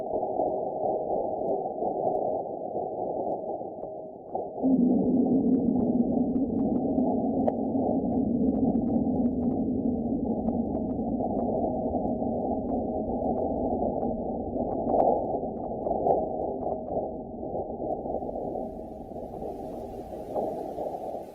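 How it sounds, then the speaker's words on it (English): Sonified seismic data of a marsquake recorded by NASA's InSight lander: a low, steady rumbling drone with a humming tone that swells partway through, continuous and eerie, heard alone. "This is about 45 minutes of seismic data, and you'll be able to hear it in a little less than half a minute."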